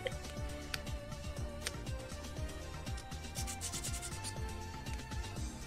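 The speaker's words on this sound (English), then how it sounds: "Get some sanding ASMR up in this bitch" Steady rubbing and sanding strokes on boat parts, a close, rhythmic scratchy rasp repeating roughly twice a second over a low hum, with no talking.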